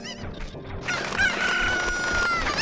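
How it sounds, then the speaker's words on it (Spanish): Chicken (cucco) in Zelda: Ocarina of Time, a few rapid clucks followed by a loud squawking crow, close and alone. "Ok, gallina, come on me."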